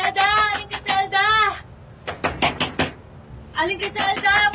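Banging and knocking on a house door alternates with loud shouting voices, several hard blows falling in a quick burst between the calls.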